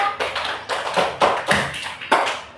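Students in a classroom clap their hands together in an uneven, rhythmic pattern of distinct claps, close by and moderately loud, with no talking over them.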